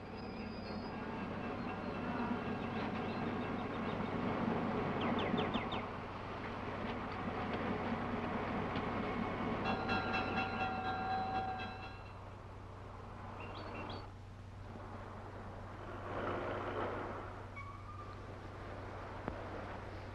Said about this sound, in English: Well, there's my train.